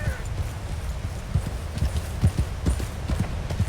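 Horse hooves clip-clopping in a video game as the horse is chased uphill, a quick, irregular run of low thuds over a steady hiss of background noise.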